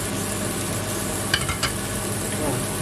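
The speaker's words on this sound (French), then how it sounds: "donc je vais faire revenir l'échalote" Chopped shallots sautéing in a pan, an even close sizzle broken by a few brief stirring scrapes around the middle, no speech.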